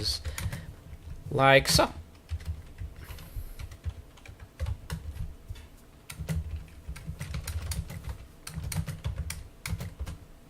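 Light keyboard typing on a computer comes in scattered bursts of taps while a voice speaks briefly near the start.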